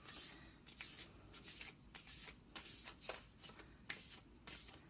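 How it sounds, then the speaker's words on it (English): Large tarot cards being shuffled by hand, a series of crisp riffling bursts and soft slaps repeating at an uneven rhythm, close and fairly quiet, with no talking. "These are hard to shuffle."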